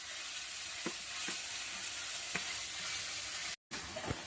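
Mixed vegetables frying in hot oil seasoned with panch phoron, a steady soft sizzle running throughout with a few brief clicks of stirring and a momentary dropout near the end.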